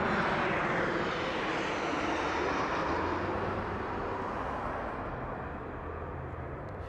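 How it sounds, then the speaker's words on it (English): A Southwest Airlines jet lands at Harry Reid International Airport in Las Vegas, its engines giving a loud broad roar that slowly fades as the plane passes, with no one speaking. "we got a Southwest coming in right now."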